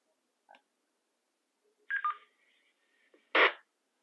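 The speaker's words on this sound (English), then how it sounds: "Sounds like a normal squelch tail to me." Brief bursts from a TID TD-H3 handheld radio on a repeater, ending in a short squelch tail, with clean silence between the clicks and chirps.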